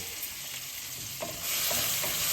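Green chilies fry in hot oil with a constant hiss that grows louder near the end, with faint stirring taps and no talking.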